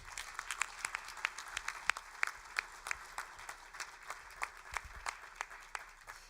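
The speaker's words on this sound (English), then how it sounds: "if you could give them one more round of applause" Scattered applause for volunteers at an opening-remarks session: individual claps ring out sparse and uneven, fairly quiet and somewhat distant, with no voices on top.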